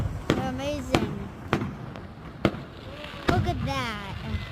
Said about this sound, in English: They're very nice fireworks, and you should come here for the 4th of July.